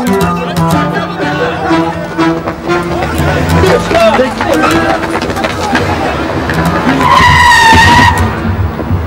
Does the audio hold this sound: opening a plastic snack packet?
no